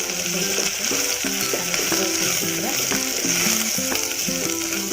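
Food sautéing in oil in a pan, a steady sizzle under someone speaking throughout.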